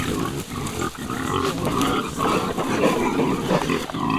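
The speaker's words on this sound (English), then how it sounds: "Come over here, feed the pigs." Pigs on Swallowtail Farm in Alachua County, Florida grunt and squeal continuously at feeding time, a busy, overlapping chorus of nearby animals with no talk.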